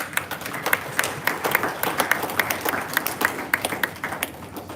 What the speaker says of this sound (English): if I can ask for a round of applause for him